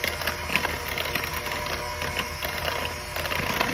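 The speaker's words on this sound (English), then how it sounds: "we're going to whisk that together" A hand whisk beats peanut butter cookie batter with vanilla in a bowl, a dense, continuous rattling scrape that stays close and even throughout.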